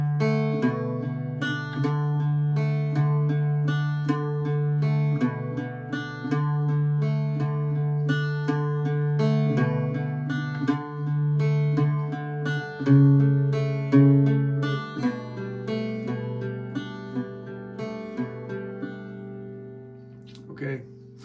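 Irish bouzouki played slowly with a picked chord pattern through changing chords, steady plucked strings ringing clearly and alone.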